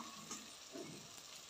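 Masala roasts in a pan for a dhaba-style gobhi sabzi, giving a soft, steady sizzle with gentle stirring scrapes, faint and close.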